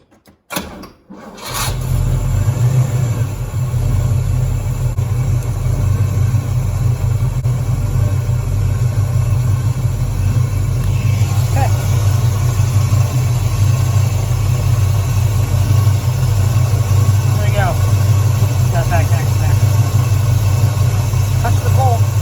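A 1979 El Camino SS with a new Powermaster 10si/12si alternator starts after a brief moment and settles into a loud, steady, close idle that rumbles on with faint clicks near the end.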